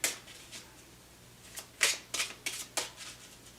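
Tarot cards riffled and shuffled by hand in a quiet room, a few soft swishes early then a cluster of sharper card flutters and slaps toward the end, close and fairly clear with no talk.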